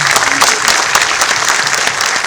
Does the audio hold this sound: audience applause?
yes